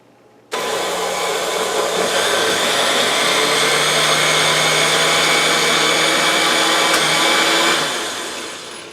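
A food processor chops a batch of about six cups of tomatoes for home-canned seasoned tomato sauce, starting abruptly with a loud, steady motor whir and blade roar that holds for about seven seconds, then winds down.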